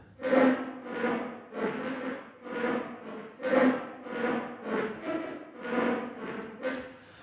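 A nasty, distorted synth lead built from a circuit-bent noise sample plays about nine pulsing notes in a steady, slightly uneven rhythm, each swelling and fading under filter and volume envelopes.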